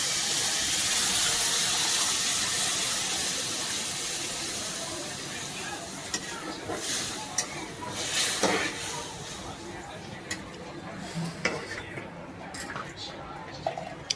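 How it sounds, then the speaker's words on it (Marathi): A glass of water poured into a hot pan of masala for a quick tomato dish sets off a loud, dense hiss that slowly fades, followed by softer bubbling and a few clinks. "बघा एक ग्लास पाणी टाकायचं"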